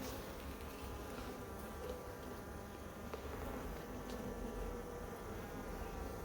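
A steady drone of many honeybees, including drones, buzzing close by during a swarm transfer in a garden, a continuous humming swarm with no voices.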